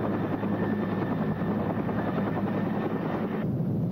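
Helicopters flying out from the coastline toward offshore oil rigs give a steady, loud rotor and turbine drone that holds evenly throughout, alone with no talk.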